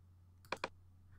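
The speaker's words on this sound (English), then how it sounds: "so I'll click the Add button twice" Two quick mouse clicks on the Add button while working in Photoshop Elements, evenly spaced about a tenth of a second apart, close and crisp over a steady low hum with no talking.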